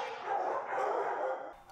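Dogs barking at an animal shelter, a steady dense run of barks and yips merged together, fairly loud and close, with no clear pauses.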